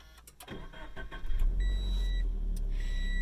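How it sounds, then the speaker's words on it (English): A 2020 Toyota 86 sports car engine is started by push button: brief clicks and starter whir, then the engine catches and settles into a steady close idle. "I'll go ahead and start it up. The engine start button is right here, just ahead of the shifter."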